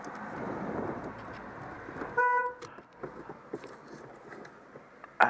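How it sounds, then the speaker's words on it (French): A single short car horn honk inside a Peugeot 309 GRX, sharp and close amid quiet interior sounds and small clicks. "c'est moi qui ai klaxonné"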